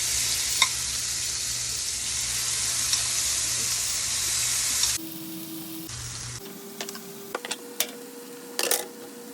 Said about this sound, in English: Go ahead and lay our shrimp in.